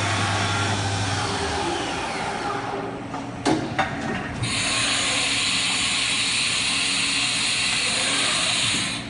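A Haas VF-3 four-axis vertical machining center runs its spindle with a steady loud whirring hum and broadband hiss, a brief clunk and shift in pitch midway, then continuous high whine.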